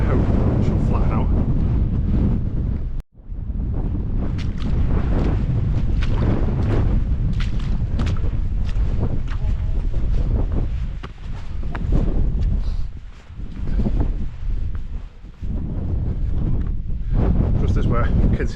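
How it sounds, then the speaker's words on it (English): Strong west wind roars across the microphone on a mountain ridge walk toward Heron Pike in the Lake District, a loud continuous buffeting with gusts, and someone talks under it. "the wind has picked up, coming in from the west"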